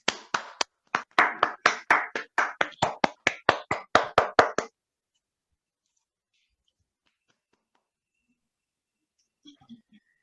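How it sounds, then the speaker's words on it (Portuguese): Applause for the authors at an online book launch on competitive intelligence: a close, steady run of about twenty crisp handclaps lasting roughly five seconds, then near silence with a faint tap at the end. "vamos todos dar uma salva de palmas"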